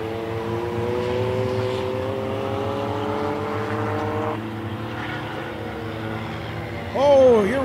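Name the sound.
dirt track race cars racing on the track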